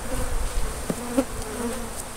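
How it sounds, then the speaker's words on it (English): A swarm of bees dumped out of a hive removed from beneath an elevated home, a steady, moderately loud buzzing drone with a few brief closer passes of individual bees. "Now that's the way to dump a pile of bees."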